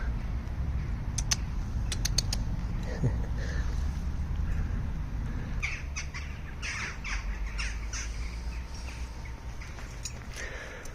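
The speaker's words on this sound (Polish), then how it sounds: "ptaszki, ptaszki" Birds squawk and chirp in short bursts against a steady low rumble, with occasional voices in the background.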